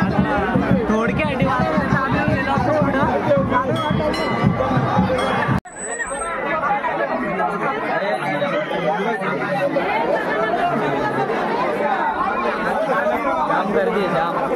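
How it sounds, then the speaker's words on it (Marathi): A dense village crowd fills the air with loud, close babble of many overlapping voices, briefly cut off by a sudden drop before the hubbub of talk and movement resumes and carries on steadily. "जाम गर्दी आहे जाम."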